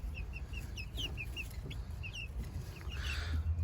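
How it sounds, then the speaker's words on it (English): Four-week-old chicks cheep and cluck outdoors in a steady stream of short, high chirps over a low, constant background rumble. "I actually moved these chicks that are about 4 weeks old outside."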